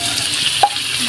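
Potatoes hit a hot frying pan with onion and garlic, a soft steady sizzle with a brief stir or clink in the middle, short and close.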